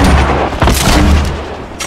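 Gunfire in the video game Fortnite, a dense, loud burst of booming shots filling the whole stretch with a few sharper cracks and no clear talk over it.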